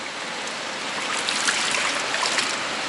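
Water pours steadily into fish troughs, a constant close rushing and splashing hiss with no voices.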